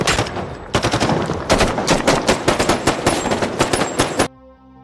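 Gunfire in a film shootout between special forces and police among cars stuck in traffic, loud rapid automatic bursts of shots in fast rhythm, stopping abruptly near the end.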